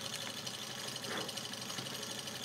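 A small Robart Stirling hot-air model engine keeps running on residual heat after the flame is removed, giving a faint, steady mechanical whir and ticking close by with no voices.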